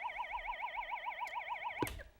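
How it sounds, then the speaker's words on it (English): An electronic warbling siren sounds at the end of a high school quiz match, a steady rising and falling wail lasting about two seconds before a sharp click cuts it off. "That siren does denote the end of our game here"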